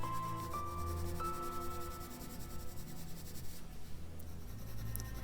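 A pencil shades across heavily textured paper with a steady, soft, continuous scratching and rubbing, close and quiet, while the darker areas of a drawing are built up.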